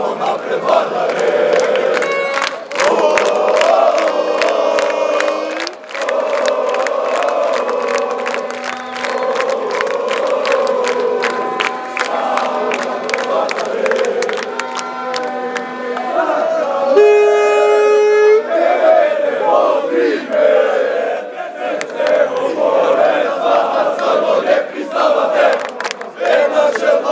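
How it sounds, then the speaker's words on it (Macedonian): A large crowd of Vardar handball fans chants and sings loudly in unison at Alexander the Great Airport in Skopje, rhythmic shouted chants with scattered whistles and cheering, continuous throughout. "Вардар шампионе, ој Вардар е македонски, ечеше на скопскиот аеродром"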